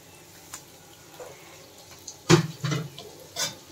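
Water poured into a pan of spiced banana-flower mixture, a short splashing pour in bursts after a quiet start, close and fairly clear.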